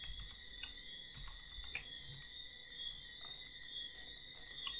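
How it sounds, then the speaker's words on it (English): Faint, scattered clicks of typing on a computer keyboard, a few irregular keystrokes over a quiet room with a steady high-pitched electronic whine in the background. "I'm going to type in story."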